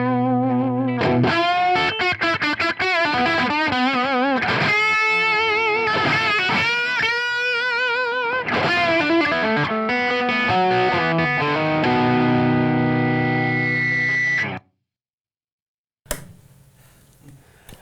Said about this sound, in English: how about you show us how this amp sounds with that Les Paul?